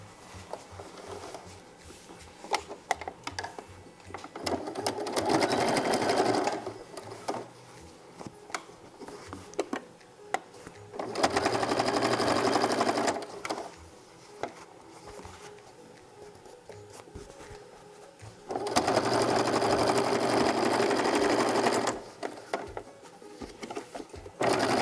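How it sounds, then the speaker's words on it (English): A sewing machine top-stitches a fabric drawstring bag's opening closed, running in several steady bursts of rapid mechanical patter separated by quieter pauses, close and clear with no talking. "just fold the raw seams in and then just top stitch the opening closed"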